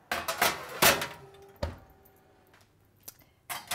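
A tray of carrots tossed in spices and oil slides into a hot roasting oven, with a few sharp metallic clanks and thuds of the tray and oven door, then quieter handling knocks.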